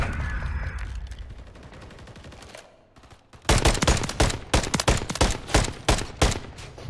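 Rapid bursts of gunfire from the Call of Duty MW3 video game in a ranked match, opening with quieter game ambience, then a dense run of loud, close shots in quick succession.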